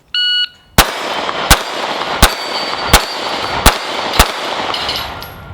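Sig P365 Gen 2 pistol fired with a 12-round magazine after a timer beep: six sharp, loud shots evenly spaced about two thirds of a second apart, with no talking.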